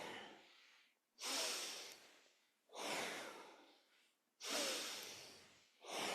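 Kundalini yoga breathing: four long, loud, airy breaths through the nose alternate evenly with short pauses, heard close up with no talking.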